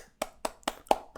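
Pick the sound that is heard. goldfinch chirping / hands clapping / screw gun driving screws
hands clapping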